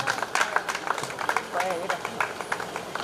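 An audience at a school alumni reunion gathering claps to welcome a teacher onto the stage, short bursts of scattered applause mixed with voices talking over it, fairly close.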